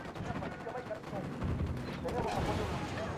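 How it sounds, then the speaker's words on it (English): Gunfire in Ghost Recon Wildlands, a dense, continuous burst of rapid automatic shots and rumbling booms, loud and close throughout. "I'm shooting these fuckers."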